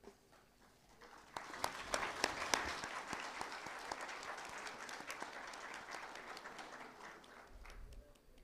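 A crowd at a graduation ceremony claps in a dense, sustained wave that swells quickly after a quiet start and stays full and steady to the end, with individual sharp claps standing out.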